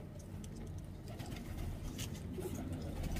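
Pigeons coo softly at a distance under steady low background rumble and hiss, with the calls faint and blending into the ambience.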